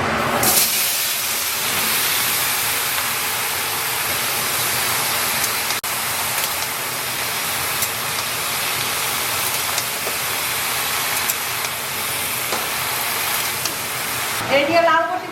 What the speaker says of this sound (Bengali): এই দিয়ে মাছ ভাজা তেলেই লাউটা বসিয়ে দেবো।